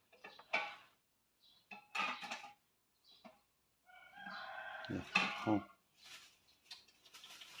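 A rooster crows once in a long, drawn-out call at moderate distance, amid scattered short clucks and clattering noises separated by quiet gaps.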